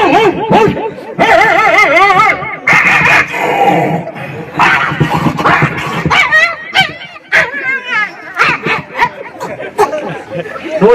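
A voice imitates three dogs fighting at once: a loud, continuous flurry of barks, yelps, growls and whimpers, close and dense with almost no pauses.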